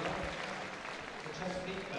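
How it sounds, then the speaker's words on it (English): A Crufts crowd cheers and applauds for a Labrador Retriever in the show ring, a dense continuous roar of clapping and voices held steady throughout. "Great cheer for him"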